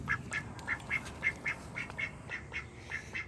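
A male duck quacks repeatedly in a steady rhythm, about a dozen short nasal calls evenly spaced, close by and moderately loud with no talking.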